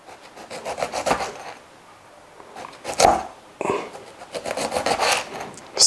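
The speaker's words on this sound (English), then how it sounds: "you cut your lemon into smaller slices" A knife saws through a lemon on a cutting surface in bursts of short, close rasping strokes separated by brief pauses, with a louder crunch midway and no talking.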